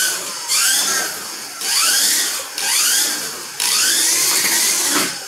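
A Kyosho Mini-Z RC car with wheel hop races around a track, its small electric motor whining loudly in rising and falling sweeps across several close passes.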